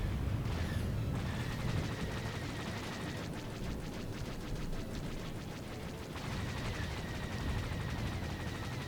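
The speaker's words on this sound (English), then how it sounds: "let's switch to gunfire" Rapid blaster gunfire from a starfighter in the space combat game Galactic Starfighter, a dense continuous crackle of shots layered over a steady engine roar, loud and unbroken for the whole stretch.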